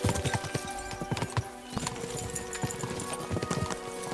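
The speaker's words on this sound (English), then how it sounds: "We should spur the horses on." Horses galloping in the video game Kingdom Come: Deliverance II, a dense, loud run of overlapping hoofbeats in quick rhythm, with a brief horse whinny.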